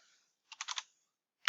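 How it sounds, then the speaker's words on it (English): Quiet keystrokes on a computer keyboard, a quick burst of four or five taps followed after a pause by one more click, close and isolated. "So you're just typing here"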